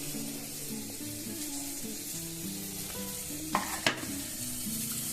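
Chicken fries in a pan with ground spice paste, giving a close, steady sizzle with stirring scrapes and two sharp clinks near the end, and no voices.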